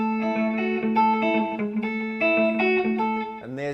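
Rockabilly electric guitar, played through an echo effect, rings out in bright picked notes and chords with slapback repeats trailing each one, ending on a lower bent chord.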